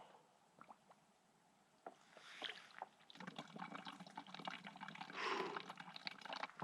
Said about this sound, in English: I'm gonna filter some more water.